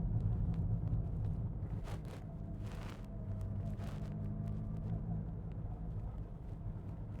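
Interior of a 1983 Ford Fiesta Mark 1 on the move, with a constant low engine and road rumble, some wind buffeting and a few brief louder rustles or knocks, no talking.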